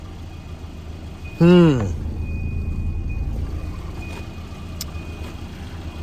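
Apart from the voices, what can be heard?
car engine running after overheating repair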